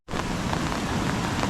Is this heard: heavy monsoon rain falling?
yes